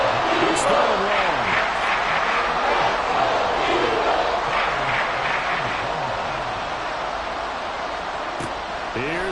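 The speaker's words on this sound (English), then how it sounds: "This crowd turning up the decibel level." A stadium crowd roars in Madden 24, a dense, continuous wall of cheering and yelling that stays loud across the whole stretch, with a play-by-play commentator speaking over it.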